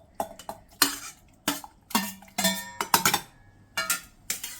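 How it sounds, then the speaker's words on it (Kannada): Cooked onion and tomato are scooped into a mixer jar, producing a quick series of sharp metallic clinks and scrapes of a spoon against steel, close and clear in an otherwise quiet kitchen. "ಇವಾಗ ಮಿಕ್ಸಿ ಜಾರ್ಗೆ ಟ್ರಾನ್ಸ್ಫರ್ ಮಾಡ್ಕೊತಾ ಇದ್ದೀನಿ"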